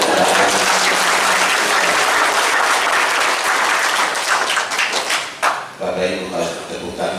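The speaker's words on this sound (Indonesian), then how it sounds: "Tepuk tangannya kurang keras" An audience applauds at an official swearing-in ceremony in Papua, dense clapping that holds steady and then thins into scattered claps near the end.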